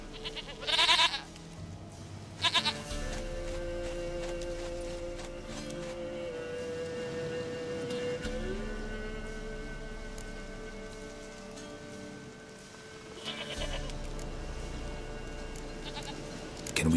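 A goat bleats in The Witcher 3 over background music and rain-like ambience, with a couple of short, loud calls near the start and more later.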